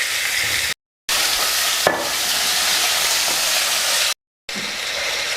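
Pork ribs brown in a pan for a potato and rib stew, giving a steady loud sizzle and hiss. A few scraping stirs and clicks break through it, and there are brief dropouts.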